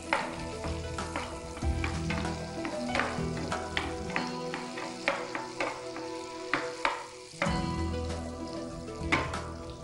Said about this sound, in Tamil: அதனால் பூண்டை போட்டு வதக்கிடணும்.